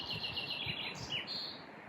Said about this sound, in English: We hear the birds